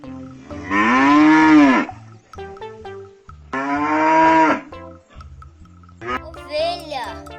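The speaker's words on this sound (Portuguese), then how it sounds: "Boi." Two long, deep cattle moos sound loud and close, one after the other, over a cheerful children's tune, with someone speaking briefly at the end.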